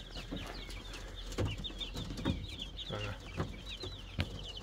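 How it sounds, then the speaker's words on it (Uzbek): White Leghorn chicks hatched from eggs brought from Kyrgyzstan cheep constantly in a dense, high chorus close by, with intermittent soft knocks and shuffling beneath. "Mana Qirg'izistondan keltirilgan tuxumlardan ochilgan legorin jo'jalari."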